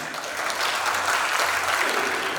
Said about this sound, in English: All right, another applause for Mr. John Patten.